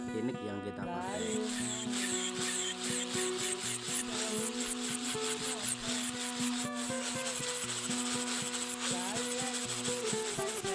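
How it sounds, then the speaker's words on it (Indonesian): A machete blade is sanded by hand with grade 80 to 100 Kinik sandpaper, giving a continuous gritty rubbing with quick repeated strokes, close up and fairly loud, with sustained tonal ringing underneath. "kita haluskan atau kita lebih ratakan lagi dengan amplas grade 80 sampai 100 bisa lor"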